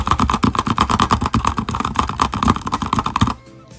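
Rapid, rhythmic tapping on computer keyboard keys while playing the rhythm game osu!, a loud, dense burst of clicks for about three seconds that stops abruptly, leaving near silence.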